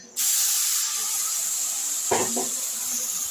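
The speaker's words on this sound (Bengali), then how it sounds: "এরপরে আমি এর মধ্যে পেঁয়াজ আদা রসুনের পেস্টটা দিয়ে দিচ্ছি।" Onion, ginger and garlic paste hits hot oil with a sudden, loud, broadband sizzle that starts sharply and hisses on steadily to the end, with a brief voice murmuring near the end.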